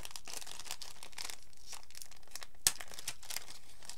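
Wrapping paper from an advent calendar gift crinkling and tearing up close in steady rustling bursts, with one sharp rip partway through.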